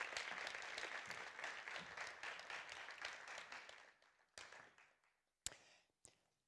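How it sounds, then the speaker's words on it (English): A round of applause from an audience at a TEDx event at Luleå University of Technology, steady clapping that fades away, with a few last isolated claps trailing off at the end. "give them a round of applause"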